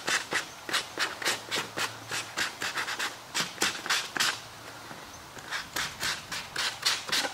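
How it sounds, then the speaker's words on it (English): Hand sanding an inflatable kayak's surface with 150 grit sandpaper to rough it up for glue: a close, steady run of rhythmic scratchy strokes, roughly two or three per second, with no talking. "I'm going to sand because I want to rough this surface up"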